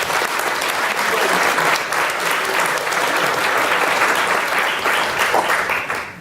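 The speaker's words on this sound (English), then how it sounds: "Can we give them a big round of applause?" An audience at a senior leadership briefing gives a sustained round of applause, with dense, even clapping filling the whole stretch at close range.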